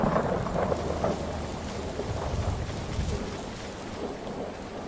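Steady rain and a low rumbling thunderstorm in the Fallout 4 survival game, a continuous dense wash of rainfall with deep rolling thunder underneath, fairly loud throughout with no talking.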